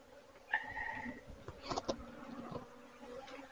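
Honey bees buzzing at a hive, faint, close drones and brief wing whines over a quiet background, with a few soft knocks and rustles.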